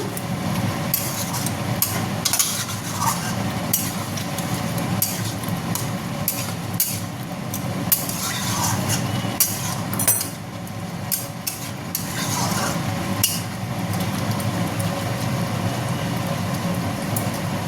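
A soybean curry simmers in a pot while a spoon stirs it steadily, with bubbling, a soft sizzle and occasional scrapes and clinks against the metal, all close and continuous.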